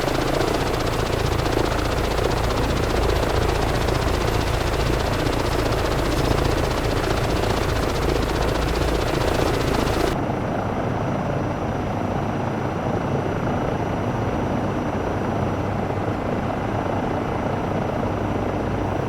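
An EC135 helicopter in a flight simulator game sends out a loud, continuous rotor and turbine drone, with a sudden shift in tone partway through as the blade thump carries on without a pause.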